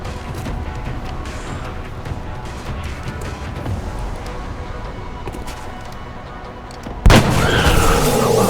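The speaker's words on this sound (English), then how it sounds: "There's heavy fire in this zone." Heavy weapons fire and explosions in XCOM: Enemy Unknown form a dense, continuous rumbling barrage, with a sudden louder burst near the end.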